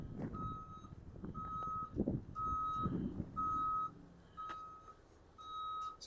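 A reversing truck on a downtown street in Regina gives a steady series of six evenly spaced electronic beeps, moderately loud, over low traffic rumble and footsteps, with no talk.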